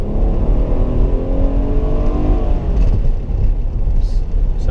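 A 2018 Nissan Pathfinder with all-wheel drive accelerates on the road, its engine a loud, steady droning hum that rises slightly in pitch, heard close from inside the cabin without any talking.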